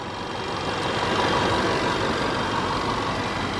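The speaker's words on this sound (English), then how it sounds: "the motor sounds very healthy" A supercharged 5.0-litre Range Rover engine idles with a steady, low rumble continuously at close range, smooth and even with no speech over it.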